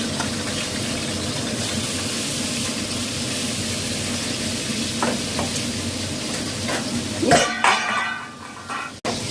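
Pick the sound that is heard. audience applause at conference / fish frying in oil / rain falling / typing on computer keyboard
fish frying in oil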